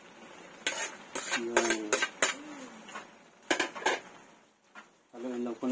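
Pancit noodles and vegetables being stirred in a pan, with a few sharp utensil scrapes and clinks against the cookware in short bursts, while a voice talks in between.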